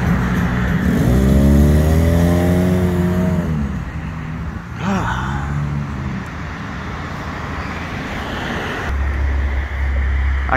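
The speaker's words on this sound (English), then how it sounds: "Car coming out." A car pulls out of a Rite Aid parking lot onto the street, its engine droning steadily up close, briefly rising in pitch as it accelerates, then a second vehicle rumbles past.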